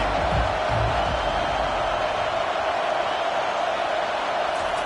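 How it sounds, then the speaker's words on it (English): A steady, distant roar from a football video game stadium crowd during a South Carolina vs Texas A&M game, rising behind the defense on third down as an unbroken wash of noise. "Decibels rising as the crowd gets behind this defense on 3rd down."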